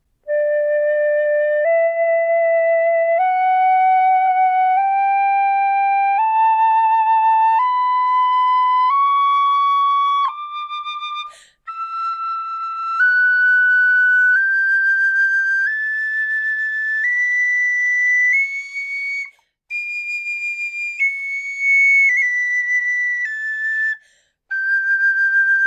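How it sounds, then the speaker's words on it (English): A tin whistle plays clear single notes stepping up a scale and back down, each note held evenly with brief gaps between phrases. "start with some simple scales up and down the whistle"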